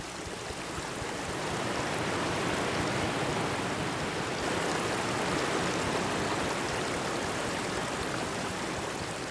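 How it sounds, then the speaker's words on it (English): Rushing river rapids churn loudly and steadily in grizzly bear country, a dense, broad roar of turbulent water close by that holds an even level from start to finish with no voices. "the impact of rushing water thrusting against a body smaller than her own"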